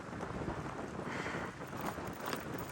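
Cold winter wind rushes steadily past a cyclist riding a bicycle on a snowy trail, a continuous broadband roar buffeting close to the microphone with slight gusts, no voices.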